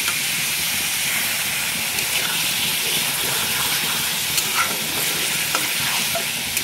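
Minced meat (keema) cooks in a pan as it browns, giving a loud, steady sizzle and frying hiss with faint crackles and stirring scrapes, and no voices.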